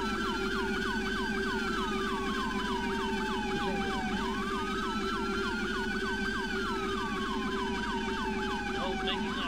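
A police vehicle siren wails continuously in the A3PL game, its rising and falling tones repeating loudly and close over a low engine hum, with no voice rising above it.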